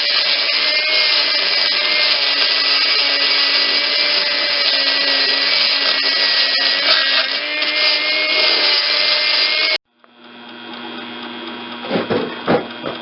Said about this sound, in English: I ground about half of the excess of that sleeve off.